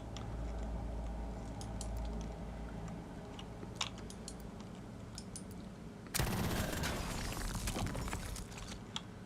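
Gunfire in the turn-based game Xenonauts 2, starting as scattered faint shots and clicks before a sudden sustained burst of automatic fire that keeps rattling steadily to the end.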